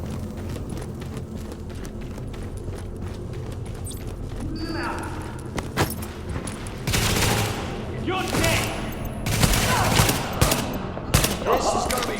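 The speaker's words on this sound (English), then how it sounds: "especially the crack of gunfire echoing down the streets as you get into combat" Combat in the video game The Division, sharp cracks of gunfire and rapid automatic bursts echoing down city streets, intermittent then heavier toward the end, mixed with shouted voices and game dialogue.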